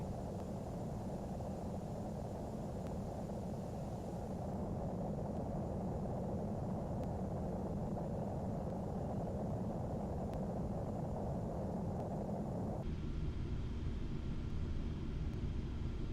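A flight-sim airplane gains speed with a steady, loud, broad engine roar that holds evenly for about thirteen seconds and then shifts to a duller, muffled drone.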